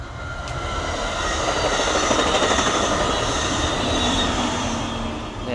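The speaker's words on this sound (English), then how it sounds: "Oh, here's a train." Train passing near a camp on an island ghost town in the Bay Area, a loud steady rumble of rolling railcars with faint wheel clatter and a thin squeal, heard alone with no talk.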